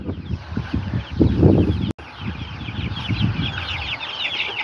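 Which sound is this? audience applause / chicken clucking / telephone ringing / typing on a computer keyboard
chicken clucking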